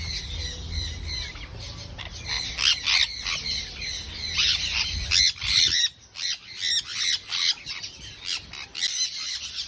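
Birds squawking loudly and repeatedly in an open aviary, harsh overlapping calls in bursts that come close together, then thin into separate squawks with short gaps, no talking.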